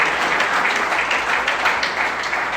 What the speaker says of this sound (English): give yourselves a round of applause for your support